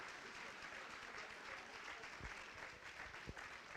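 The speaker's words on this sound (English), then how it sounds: "nice round of applause for our All-County offense" A banquet audience at a high school fall awards event applauds continuously, a faint, distant wash of clapping with a couple of low thumps near the end.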